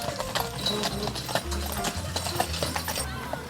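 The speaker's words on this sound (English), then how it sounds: "Horsey." Horse hooves clip-clop steadily nearby at a small-town attraction, with a few faint voices in the background.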